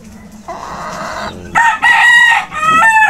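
Chickens kept as fowl crow and cluck close by, with several loud, harmonic crows overlapping in quick succession after a quieter opening stretch of clucking.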